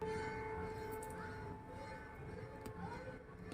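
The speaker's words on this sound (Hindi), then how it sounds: "यहाँ पे मंदिर में आरती हो रही है और आरती के समय जो शंखनाद हो रहा है" A conch shell blown during temple aarti, a sustained steady tone held throughout, ringing alongside bells in a reverberant temple setting, fairly loud and continuous with no talk.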